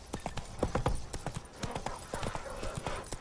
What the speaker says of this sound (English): Slow now. Whoa. Come on, Roach